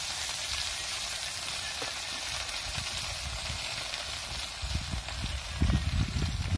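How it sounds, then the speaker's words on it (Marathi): Tender spring onion greens drop into hot oil and sizzle steadily in a kadhai, a dense, continuous frying hiss close by with some low stirring knocks toward the end, and no talk. "हे बघा मी आता तेल टाकलेलं आहे आणि लगेच टाकून द्यायची आपल्याला कांद्याची पात त्याच्यामध्ये"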